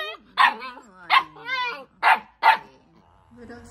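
A puppy in a rural provincial yard barks four times in short, sharp, high-pitched bursts close by, with a brief whimpering whine between the barks.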